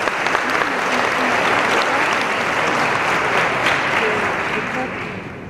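A convention audience applauds a panel of speakers at a biopharma leadership forum. The steady, dense clapping holds for about five seconds and then starts to fade, with no talk over it.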